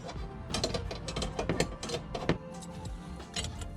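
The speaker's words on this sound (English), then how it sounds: "Now that I've got it started, I got to finish it off with this wrench." Wrench tightening a gas line fitting on a gas fridge, a close sequence of irregular metallic clicks and ratcheting scrapes with no talk.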